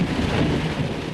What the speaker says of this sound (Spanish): la violentísima tormenta de rayos y truenos que hubo esa noche